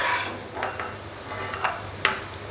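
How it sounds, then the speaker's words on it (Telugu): Cashew nuts frying lightly in oil in a pan, a steady close sizzle with a few soft stirring clinks and scrapes, no talk. "ఈ జీడిపప్పులు లైట్గా ఫ్రై చేసుకోవాలి."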